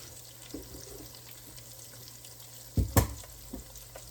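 Chicken nuggets fry in a skillet with a soft, steady sizzle, broken by a couple of louder clattering bumps and splashy crackles near the end; no voices.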